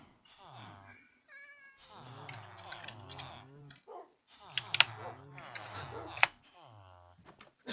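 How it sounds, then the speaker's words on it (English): Minecraft cats meow repeatedly in close succession, loud and near, with the rising-falling tones overlapping one another, alongside other mob and villager noises. "there's all the workstation noises, all the cats and dogs and individual villager noises"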